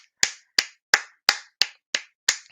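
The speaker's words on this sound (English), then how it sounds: "Round of applause" Seven crisp, evenly spaced hand claps ring out one at a time, close and sharp with silence between each, in a steady rhythm saluting a school's county-champion tennis team.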